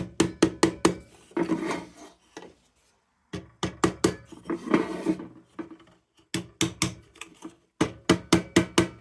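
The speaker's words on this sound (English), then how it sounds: "get my soft hammer" A soft hammer taps a metal lantern crown into place on a Defiance Triumph No. 2 lantern, in quick clusters of sharp knocks separated by scraping and handling noises, close and distinct, with no speech.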